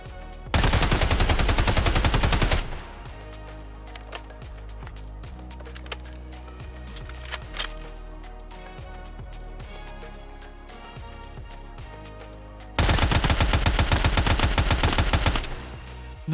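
Full-auto bursts from an ASh-12 rifle in a video game, two loud dense strings of gunfire about two seconds each with a quieter stretch of ambient game sound between.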